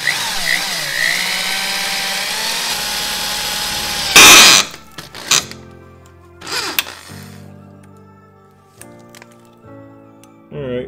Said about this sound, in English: when you're drilling these things out is make sure you center punch them and drill them dead center